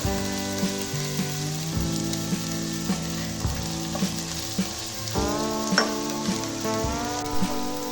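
Red onions frying in hot oil for an egg curry, a steady close sizzle with occasional stirring clinks throughout.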